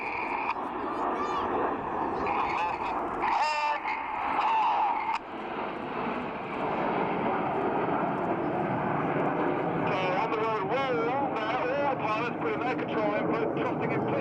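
Red Arrows display jets at the RAF Leuchars airshow dive downhill and twist away at speed, a loud sustained broadband engine roar throughout that swells again near the end, with a commentator talking over it.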